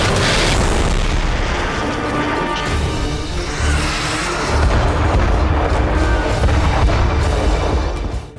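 Wartime tank fire and cluster bomb blasts from the Nagorno-Karabakh conflict between Azerbaijan and Armenia rumble as a loud, continuous barrage of overlapping booms and crackling bursts with no pauses.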